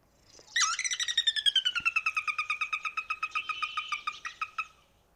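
A secretive, chunky gray-brown marsh bird with a small yellow chicken-like beak gives a loud whinnying call, a long run of rapid, evenly pulsed notes that slowly falls in pitch and lasts about four seconds, close and alone.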